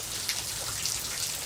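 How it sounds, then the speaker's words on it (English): Steady rain falling on a stormy morning, an even hiss of drops on surfaces with a few louder splashes, close and continuous with no talking. "We needed the rain, though"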